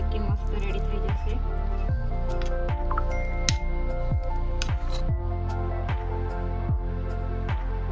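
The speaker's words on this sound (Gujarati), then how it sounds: "હવે આપણે ગરમ ગરમમાં જ કાપા પાડી લઈશું" A knife scores hot sesame chikki spread on a plate in a home kitchen, with repeated soft sticky squishing strokes at a steady rhythm, about one per second, close and clear.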